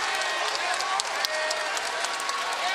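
Home crowd applauding at a Tulane Green Wave men's basketball game against UConn, a steady dense wash of clapping throughout with a few sharper claps standing out.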